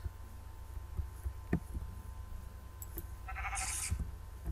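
A video-game sheep lets out a single bright bleat near the end, preceded by soft scattered thumps and a low steady hum, fairly quiet and without speech.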